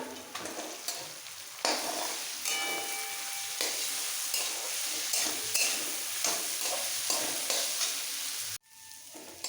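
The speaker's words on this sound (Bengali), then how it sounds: "মশলার সাথে দু মিনিট ডালটাকে আগে একটু কষিয়ে নিয়ে" Boiled moong dal frying in oil with ginger and green chilli for khichuri, a steady close sizzle with frequent spatula stirs and scrapes against the pan, ending in a sudden cut.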